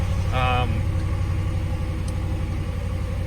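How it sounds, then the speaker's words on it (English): A 2016 RAM 1500 Laramie pickup fires up by push button, giving a brief crank and catch that settles into a steady, rumbling idle, with someone talking over it. "put your foot on the brake, push button start"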